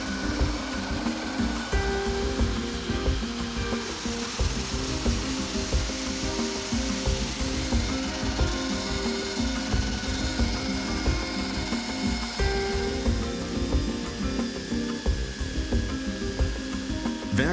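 A Carbide grinding disc on a power tool grinds continuously and loudly for the whole stretch, a rough, steady whirring abrasion with a fluctuating gritty texture and no pauses.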